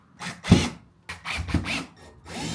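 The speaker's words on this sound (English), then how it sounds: "Let's get to drilling." Short bursts of grinding drilling through metal on a Toyota MKV Supra for a carbon fiber wing, three or four passes separated by brief pauses, loud and close, with a harsh rasping edge.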